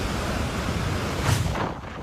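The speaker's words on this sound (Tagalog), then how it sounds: "sa lakas ng hampas ng hangin sa bayan ng Dilasag sa Aurora" Strong Typhoon Nika winds roar through the town of Dilasag in Aurora, a dense, loud rushing wash with a gust surging near the end.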